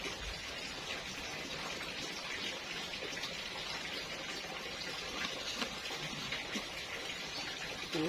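Light rain falls steadily, a soft, even hiss of drops pattering on surfaces with no breaks, faint and constant, with no voices.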